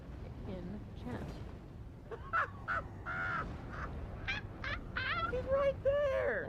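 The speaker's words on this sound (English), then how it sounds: "That seagull laugh" A seagull's laughing calls in the video game The Devil in Me: a run of harsh, honking cries repeated in quick bursts, moderately loud, with voices talking underneath.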